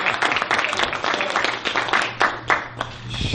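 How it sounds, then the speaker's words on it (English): Applause for a martial arts instructor at a martial arts school, a dense crowd of clapping with a few sharper claps standing out, carrying steadily from start to finish. "So give her a round of applause."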